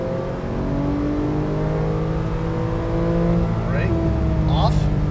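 A 2012 Porsche 991 Carrera S accelerating on a race track, its engine note rising steadily in pitch from inside the car, with a voice talking over it.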